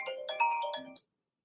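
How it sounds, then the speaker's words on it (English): An electronic phone ringtone plays a short melodic phrase of bright tones for about a second, then cuts to silence. "And it's ringing."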